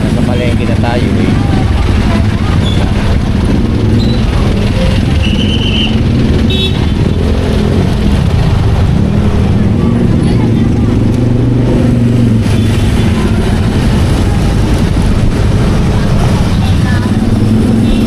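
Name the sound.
market street traffic, cars and motorcycles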